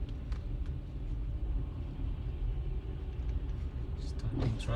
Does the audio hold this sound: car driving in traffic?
yes